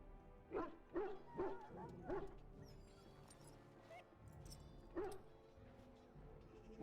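A dog whimpers and yelps in a pen in the video game Dragon Age Origins: several short, fairly faint cries come in an uneven series over a low background hum, with no talk.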